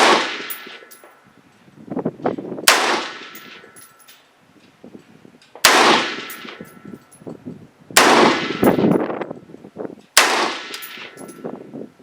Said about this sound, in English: shoot the PMC bronze ammo out of the Lancer magazine